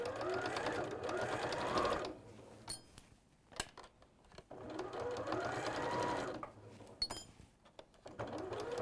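Sewing machine stitching a fabric seam around a gentle curve, close and clear, running in two steady whirring bursts separated by quiet pauses filled with small clicks and fabric handling.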